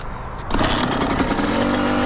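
Kawasaki KX100 dirt bike kick-started, with the engine catching about halfway through and settling into a loud, steady two-stroke drone close by.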